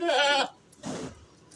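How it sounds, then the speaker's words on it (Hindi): A goat for sale at a home livestock market gives two loud, close bleats, the first longer and wavering, the second shorter after a brief pause. "और एक ये बकरी है, ये दांतों में 4 है"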